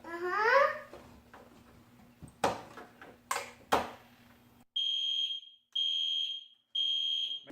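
A fire alarm power supply drives its NAC 1 and NAC 2 notification circuits, producing three loud, steady electronic alarm tones separated by short gaps. The tones follow earlier talk and laughter with some handling knocks.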